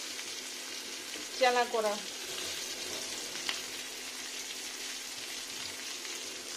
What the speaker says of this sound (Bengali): এবার এটা খুব সুন্দর ফ্রাই করতে দিতে হবে 1 মিনিট